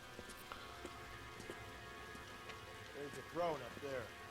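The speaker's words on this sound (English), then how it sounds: "It's getting infinitely more rainy and dark" Steady rain falls in the LA Noire video game, a constant soft patter with a few voice-like murmurs rising over it near the end.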